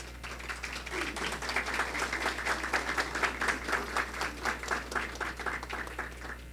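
Audience at a Guatemalan human rights forum applauds a political leader being introduced, steady sustained clapping from a crowd over a low constant hum, moderately distant, with no talk over it.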